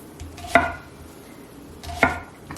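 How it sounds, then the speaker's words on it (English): Two sharp knife chops on a cutting board, spaced over a second apart, with a faint steady background hiss between them. "we're almost done chopping this"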